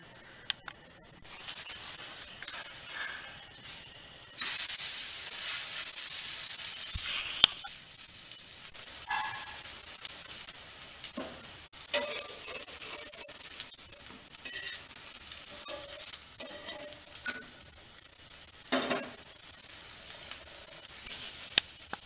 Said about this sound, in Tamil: இப்போ நம்ம ரொட்டி சுடலாம். இதை தோசைக்கல்ல போட்டு எடுத்துடலாம்.